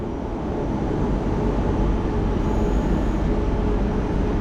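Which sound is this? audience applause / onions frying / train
train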